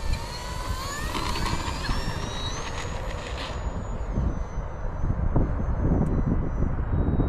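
An FMS Cessna 182 RC plane takes off on a gusty, crosswind day, its electric motor whining as the pitch climbs then levels off, with steady wind rush and rumble throughout.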